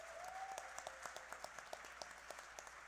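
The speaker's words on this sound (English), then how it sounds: "Give Imagine Waterworks a round of applause" Applause at the Creating Change 2024 trans and gender-nonconforming liberation plenary, given to Imagine Waterworks: faint, distant clapping from a conference crowd, with scattered individual claps standing out over the steady patter.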